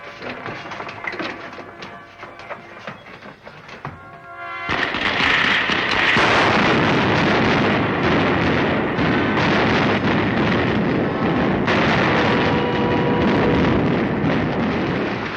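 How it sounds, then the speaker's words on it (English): A spaceship's starting rockets fire in an old radio drama sound effect, a dense, loud crackling roar that starts suddenly and holds steady, following a quieter stretch of crackling. "Fire the starting rockets."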